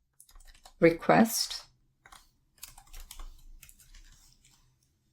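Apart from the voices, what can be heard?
typing code on a computer keyboard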